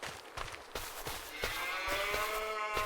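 Cattle low inside a big cow barn with a feeding robot in a farming video game. After a quiet start with soft clicks, a steady, drawn-out moo rises and holds at moderate loudness.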